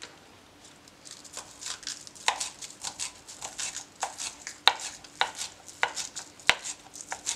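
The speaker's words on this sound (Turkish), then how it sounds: "Bahçeden topladığım yeşil soğanlarımı kesiyorum." Garden green onions being chopped with a knife on a board: a close run of irregular, crisp knife taps, some sharper than others, with no voices.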